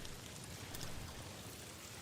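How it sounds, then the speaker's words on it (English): Steady rain ambience added as background to a relaxed chat stream: a soft, continuous wash of falling rain, faint and even, with no voices over it. "Is the rain, I turned the rain up a bit more, because I couldn't hear it when I went back last time to re-listen"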